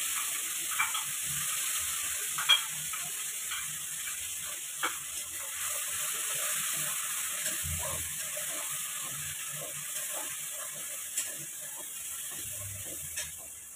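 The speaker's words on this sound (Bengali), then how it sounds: "সেই পেস্টটা আমি কড়াইতে এখন দিয়ে দিচ্ছি।" A paste of green chilli, cumin, coriander and ginger fries in a wok, giving a steady soft sizzle with occasional light stirring clicks and scrapes throughout.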